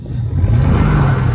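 A Chevrolet or GMC truck engine revving with its wheels spinning on ice, a steady loud low rumble that rises slightly and holds near and continuous.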